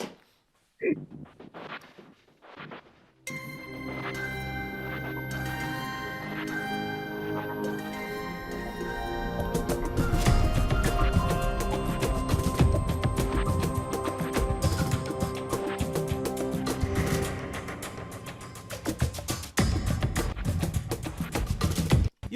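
Music spatialized binaurally with a Sound Particles plugin and heard over a Zoom call, starting with a brief sound, then a dense, sustained layered mix that swells and grows fuller midway and continues steadily to the end.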